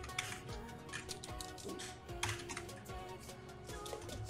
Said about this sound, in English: So I'm gonna type in has joined the hangout.